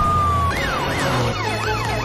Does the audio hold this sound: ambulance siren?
yes